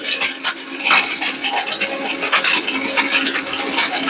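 A heavy-duty blender runs at full speed grinding turmeric, giving a loud, gritty rasping whir with rapid scratchy bursts throughout.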